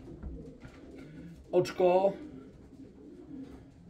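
A pigeon held in the hand coos briefly, a short burst of throaty notes heard close by, with someone talking before and after.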